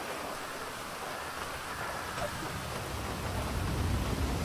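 Rain falls steadily in Grand Theft Auto Online, a soft continuous hiss of drops with a faint low rumble beneath, even and unbroken throughout.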